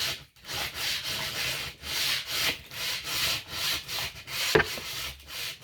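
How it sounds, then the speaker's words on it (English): A wooden arrow shaft held in a vise is sanded with sandpaper by hand, producing rhythmic rasping back-and-forth strokes, close and steady, with no talk. "I'm just sanding that shaft"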